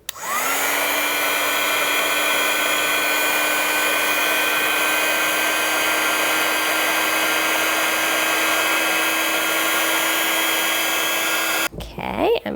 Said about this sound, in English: And then you can take your heat gun and slowly heat this up until the embossing powder kind of melts